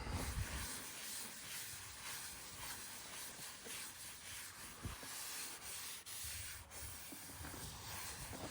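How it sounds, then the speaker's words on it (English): Shop towel rubbing across a freshly stained butcher block countertop, a soft continuous scrubbing hiss with slight rhythmic swells, faint and close. "And then I'm wiping it down with an automotive shop towel."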